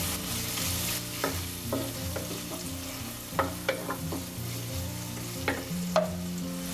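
White parts of green onion are stir-fried in a hot wok for veg chowmein, with a steady frying hiss and repeated close spatula scrapes and clicks against the pan.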